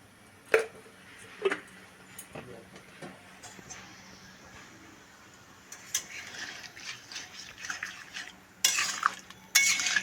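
A spoon stirs sugar into a simmering vegetarian dish in a pot, giving soft scraping and occasional clinks against the metal over a quiet bubbling hiss, with louder rasping strokes near the end.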